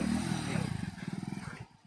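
A motorcycle engine labours at low revs on a rough, uneven road, its loud throbbing pulse fading into a rapid putter before dropping away.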